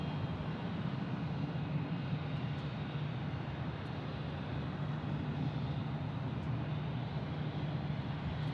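A Cessna Citation Latitude business jet at Phoenix Sky Harbor Airport gives off a steady, broad engine roar at a distance, even and unbroken throughout, with no voices.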